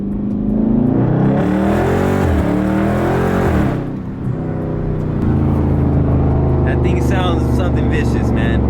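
A Dodge Charger Scat Pack with a mid muffler delete revs loudly nearby, its deep V8 rumble rising and falling through throttle blips before settling to a heavy idle, with a voice talking over it.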